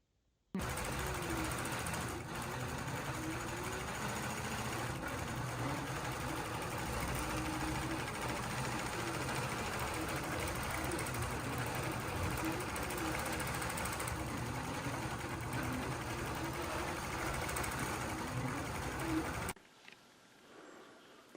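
A sewing machine stitches a quilting design across a quilt, a steady, loud mechanical whirring that runs continuously for about nineteen seconds before stopping abruptly, leaving a quiet room.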